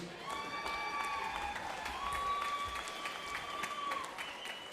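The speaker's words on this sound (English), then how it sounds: "let's give a big round of applause for both of these fighters" A crowd at a boxing event applauding and cheering steadily for both fighters, with a long drawn-out voice ringing over the clapping.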